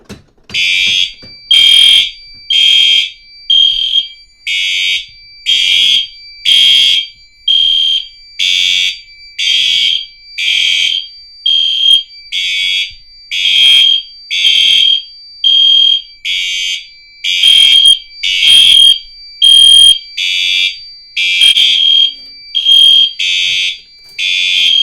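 A fire alarm system sounds during a system test: a loud, steady electronic horn pulses on and off in a regular rhythm for the whole stretch, close and alone with no talk.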